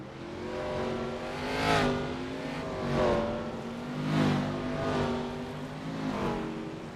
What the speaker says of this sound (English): the starting grid now pulls off and away for the first time tonight